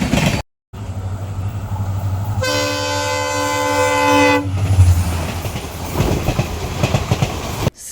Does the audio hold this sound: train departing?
yes